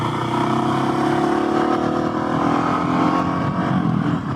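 A Husqvarna 701SM motorcycle rides along with a steady, close engine drone that rises and falls slightly in pitch, with no voices over it.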